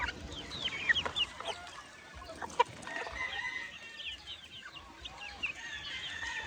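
Farm chickens cluck and peck at feed on the ground, scattered soft clucks and sharp peeps over faint background rustle, fairly quiet and close.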